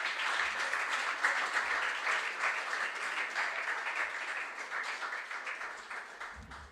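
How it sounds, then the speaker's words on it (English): An audience claps for contestants at a junior science and maths quiz regional final, steady sustained applause from a crowd filling the whole stretch and easing slightly toward the end. "Let's clap for them."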